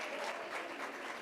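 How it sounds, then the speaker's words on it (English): Audience applause at a college graduation ceremony, a dense, even wash of clapping from many hands filling the short stretch, steady and moderately loud. "Let's welcome them with a radiant cheer."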